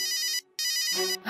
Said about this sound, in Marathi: अभिचा फोन.